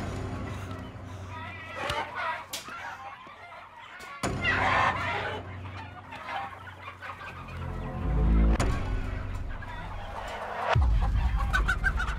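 Live chickens cluck in short, repeated bursts, fairly close, mixed with people talking and movement around a poultry shop.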